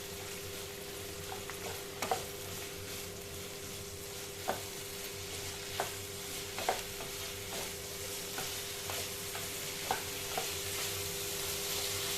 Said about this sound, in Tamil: இது நல்லா வந்து கலர் மாறணும். இந்த பச்சை இருக்குது அந்த கலர் மாறணும். அந்த அளவுக்கு நம்ம இதை வதக்கணும்.